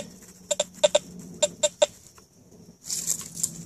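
A metal detector at high sensitivity, above 80: faint, irregular electronic chirps and blips come in quick clusters, followed by a short burst of hissy static.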